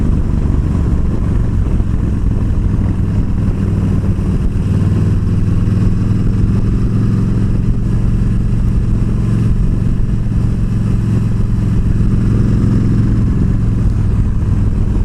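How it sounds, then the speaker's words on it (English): A tractor-trailer truck engine rumbles steadily up close as it passes at night, a low droning roar with road noise that swells slightly midway, no voices. "Do get tractor trailers through here pretty often."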